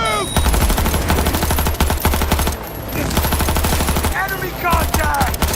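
Dense rapid gunfire from the video game Cyberpunk 2077 rattles loud and close in sustained automatic bursts, with brief chirping in-game effects mixed in.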